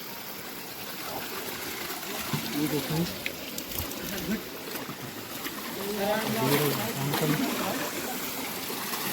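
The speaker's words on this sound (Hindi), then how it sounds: "ये यहाँ पे 9 धाराओं में शुद्ध पानी आता है।" Spring water pours steadily from nine spouts at a hillside temple beside a pond, a continuous close splashing rush while someone speaks over it.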